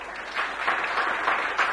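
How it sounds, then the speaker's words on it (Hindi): Students in a classroom clap together for a classmate, a short burst of steady applause with a few louder swells, moderately near and without talk over it. "नलाई को एक बार ताली ठोको छोरी के लिए।"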